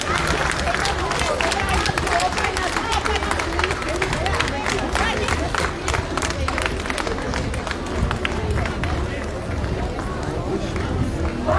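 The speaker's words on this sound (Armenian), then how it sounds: "Ծափահարություններով" A large crowd at a Mother Armenia alliance political rally in Gyumri claps steadily, a dense, loud wash of applause with crowd murmur running through it for the whole stretch.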